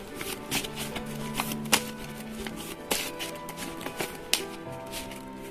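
Oracle cards being shuffled by hand, with soft riffling and flicking broken by sharp taps as the deck is squared, close and uneven in rhythm, and no voice.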